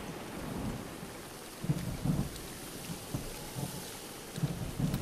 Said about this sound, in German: Wegen dem Gewitter oder was?